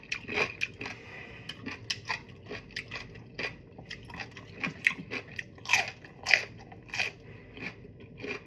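Crunchy bites and chewing of cannonball jellyfish dipped in seafood sauce, close and fairly quiet, a steady run of crisp crackling crunches spaced irregularly, with no talk.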